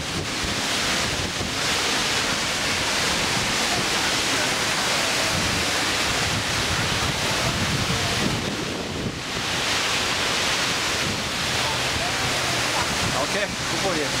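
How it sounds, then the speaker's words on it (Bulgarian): A powerful waterfall in Iceland, heard from close beneath it as a loud, unbroken roar of crashing water, buffeted by wind across the microphone, with brief voices underneath. "Ето ни, ще сме под водопада."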